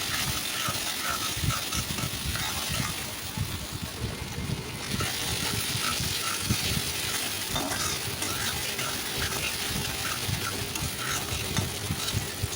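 Potatoes fry in a pan with salt and turmeric while a spatula stirs them, steady sizzling under repeated scraping and clinking, up close for the whole stretch with no talk.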